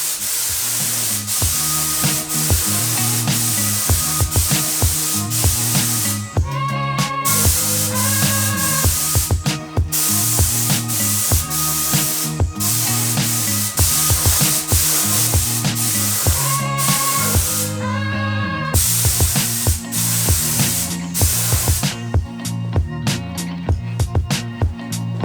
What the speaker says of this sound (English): take this over to the paint bench and give it a coat of white primer